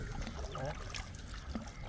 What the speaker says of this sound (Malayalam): പാടത്തിൻ്റെ ബണ്ടൊക്കെ കവിഞ്ഞൊഴുകുവാണ്